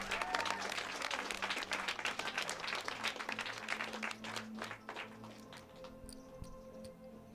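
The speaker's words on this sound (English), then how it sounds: "From Wellington, give him a round of applause." A poker final table crowd applauds a player introduced from Wellington, dense clapping that starts strong and thins out toward the end, leaving a low background hum.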